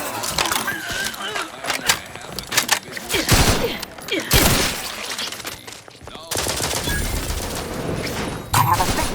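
Gunfire rattles in The Outer Worlds 2 video game, with dense bursts of rapid shots and impacts, loud and continuous across the scene, mixed with game sounds and brief voices.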